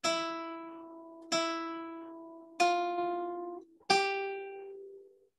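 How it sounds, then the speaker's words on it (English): Four single notes plucked one after another on a guitar, each clear tone ringing out and slowly decaying before the next, evenly spaced and heard alone. "So when I play those four notes in a row, it should sound like this."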